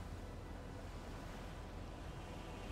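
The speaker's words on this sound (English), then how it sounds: "You can hear the waves." Steady, low rushing ocean surf from the video game No Rest for the Wicked, a continuous wash of waves with no distinct breaks.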